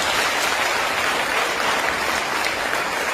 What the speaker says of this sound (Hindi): उसके लिए जोरदार तालियां आपको।